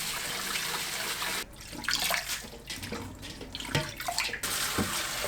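Octopus being rinsed under a running kitchen tap, a steady broadband gush of water with splashing and sloshing shifts as the octopus is handled, close and fairly loud with no talking.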